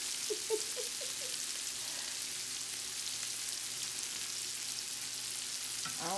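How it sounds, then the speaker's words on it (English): Shrimp fry in butter in a pan with a steady, close hiss and sizzle throughout, a few light utensil touches early on and no talking. "So we have our butter in the pan. And you put your butter in at the very end when your shrimp is almost done."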